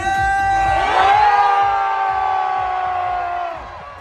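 A crowd on a cruise ship deck at a sail away party cheers and whoops loudly, while a sustained horn-like tone rises and holds over the roar before fading.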